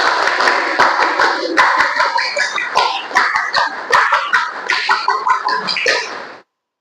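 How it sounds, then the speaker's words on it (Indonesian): A group claps the Pramuka Scout pattern twice through, a loud, close run of rhythmic hand claps lasting several seconds with voices mixed in, ending sharply into silence. "Dua kali tepuk Pramuka."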